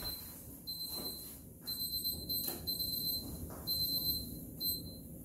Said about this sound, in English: there goes my timer for my mash